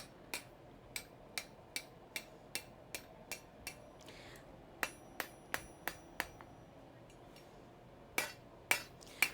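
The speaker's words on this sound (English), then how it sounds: "Working on the horn of the anvil here" A hammer strikes metal over the horn of an anvil in a steady series of sharp, ringing blows, with a short pause midway before the rhythmic strikes resume and end in a few heavier hits.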